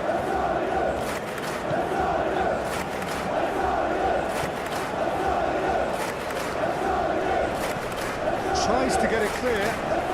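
Football crowd noise from a Premier League match between Hull City and Fulham, a steady loud stadium murmur with scattered shouts, running continuously beneath a commentator's voice.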